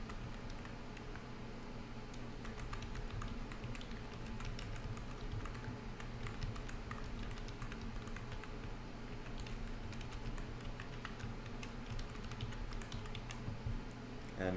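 Steady, close typing on a computer keyboard as account details are entered, a continuous patter of key clicks over a faint fan hum.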